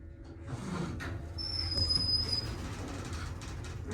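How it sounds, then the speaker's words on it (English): An Otis Series 4 hydraulic elevator runs with a steady low rumble and a whirring hum. A thin high-pitched whine rises briefly partway through, and the motion sound stays continuous throughout. "So it seems like this is the only elevator that's working now."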